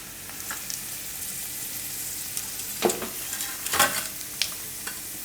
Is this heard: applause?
no